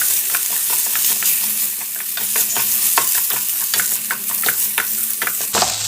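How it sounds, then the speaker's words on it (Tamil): Spoon stirring and mixing a cutlet mixture of spices, coriander leaves and salt in a frying pan, with repeated scraping strokes over a steady sizzle, close and fairly loud. "இப்போ எல்லாம் ஒன்று சேர நல்லா மிக்ஸ் பண்ணிக்கலாம்."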